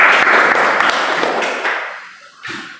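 Classroom applause for a student after a lesson on tayamum, a short burst of many hands clapping that fades out, with a few sharper claps standing out.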